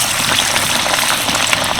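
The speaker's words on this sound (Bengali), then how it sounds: "ওটা যতক্ষণ ভাজা হতে থাকছে ততক্ষণ আমি আর একটা রেডি করে নেব।" A snack wrapped in banana leaf fries in hot oil, producing a loud, steady, close sizzle and crackle that continues without a break.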